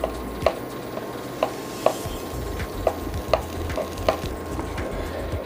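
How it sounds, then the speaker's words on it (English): Butter melting in a pan while a spoon stirs it, a soft low sizzle broken by regular clicking taps of the utensil against the pan, about one every half second, with no talk. "We'll melt the butter completely."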